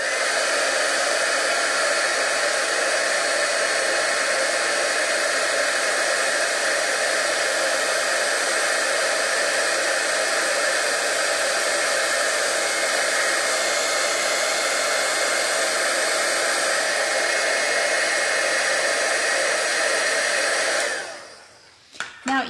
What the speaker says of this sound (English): you now need to give this another hot shot of heat with your heat tool so that the glitter sets in